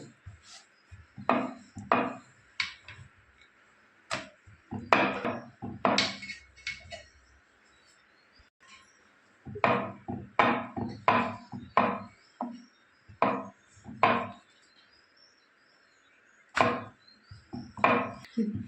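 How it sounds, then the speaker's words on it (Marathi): Puran poli dough being rolled out with a wooden rolling pin, rhythmic knocking and rolling thuds in bursts with quiet pauses between, close by and without talk. "आता लाटून घेऊया पोळी लाटून घेऊया"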